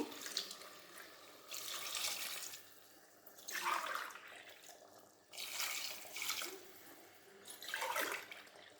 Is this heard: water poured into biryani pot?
yes